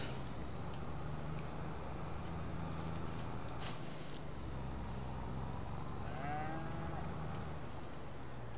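Cattle in the Farming Simulator 2022 video game moo once or twice over a steady, dense background of game ambience and engine hum.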